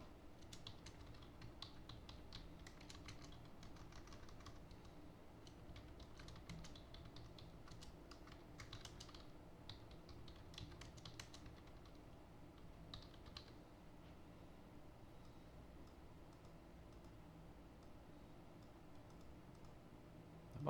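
Someone types on a computer keyboard in quick irregular bursts of clicking keys, close and steady, with brief pauses between runs.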